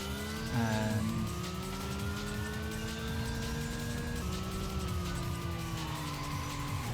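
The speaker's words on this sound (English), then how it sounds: "Actually going to try to dial in and pay attention to driving." A car in a drifting video game revs through shifting engine tones, with rising and falling whines and a gear change, under a continuous roar and no talk.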